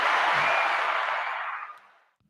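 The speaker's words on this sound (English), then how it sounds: "Give it up. Round of applause." A round of hand clapping, a dense burst of applause that holds steady before tapering off and fading to silence within about two seconds.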